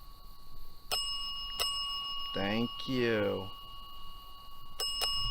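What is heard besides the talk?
bell ringing in a cemetery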